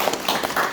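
Brief burst of dense, steady applause from residents gathered for a town-hall meeting with the mayor in a Sejong village, clapping for the city staff, close and fairly loud with no speech over it.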